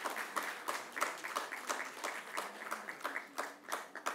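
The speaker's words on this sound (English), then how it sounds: "Let's give a huge round of applause to them as well." Audience applause for the Radio4Child Awards winners, a steady crowd clapping with a quick, even rhythm at moderate distance and no talk over it.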